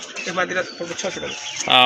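A female pigeon of a local breed coos in soft, repeated low throaty phrases, close by, ending with a brief louder burst.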